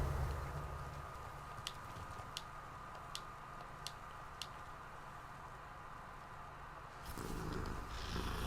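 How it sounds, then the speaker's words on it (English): A cat purrs in Hogwarts Legacy, the video game: a soft, continuous rumbling purr with faint ticking over it, swelling a little louder near the end. "My Hogwarts kitty cat."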